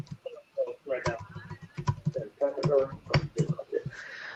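Quick bursts of clicking keystrokes on a computer keyboard come through under people talking, close by and fairly clear.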